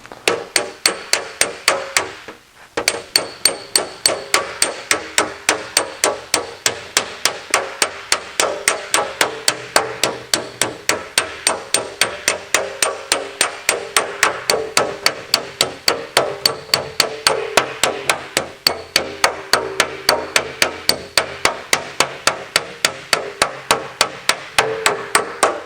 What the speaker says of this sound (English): I'm just going to take my favorite snap-on hammer